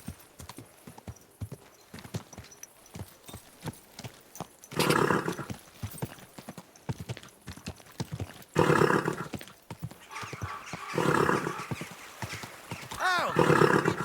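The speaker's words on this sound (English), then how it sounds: "Easy, good horse." Horse hooves clip-clop steadily on the ground in the game Kingdom Come, close and rhythmic, with louder bursts of movement and snorting at intervals.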